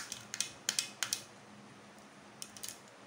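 A toy cooking utensil cutting a toy steak, giving a series of small, crisp plastic clicks and snips, a quick cluster of taps followed by a pause and a few more; fairly quiet, close, with no talking.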